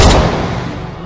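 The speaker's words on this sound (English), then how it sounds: "He just shot." A single loud gunshot in the Minecraft DayZ mod game bursts up close and fades into a short, booming decay, with no one speaking over it.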